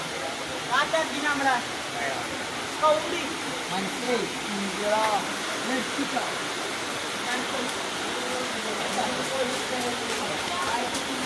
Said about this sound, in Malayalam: 27 രാവിന് ഇതാ നല്ല മഴ.